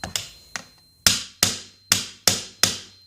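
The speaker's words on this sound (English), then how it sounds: "so now I'm hammering it in" A hammer drives a Magpul trigger guard into an AR-15 lower receiver. Two lighter taps come first, then five sharp, loud metallic strikes land at a steady, even rhythm, each ringing briefly before the next blow.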